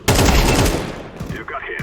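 Rapid gunfire bursts from Counter-Strike 2, loud and dense at first, then thinning into scattered shots and a trailing mechanical clatter.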